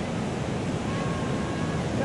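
Waves washing onto a beach with white and black sand, a steady rushing surf hiss mixed with wind buffeting the microphone, continuous and fairly loud.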